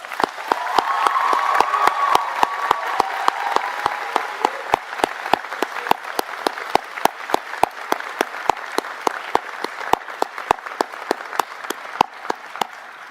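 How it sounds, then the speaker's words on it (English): Graduates and guests at a university convocation ceremony for an animation, arts and design faculty break into a long, steady round of applause in a large hall, dense clapping sustained throughout with a brief murmur of voices early on. "Graduates, I invite you now to share a round of applause to thank your family and friends"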